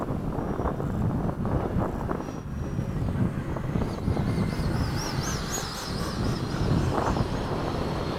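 A Hobby King Avios 90mm MiG-17 model jet comes in to land, its ducted-fan whine rising and sweeping in pitch over steady wind and low rumble, loud and continuous throughout.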